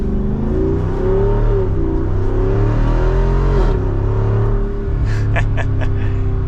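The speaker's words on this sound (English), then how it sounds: "Gosh, that overrun sounds so good." Loud, deep V8 engine rumble from inside a 2024 Jeep Wrangler 392 Rubicon as revs fall on overrun, followed by a few sharp pops and crackles from the exhaust near the end.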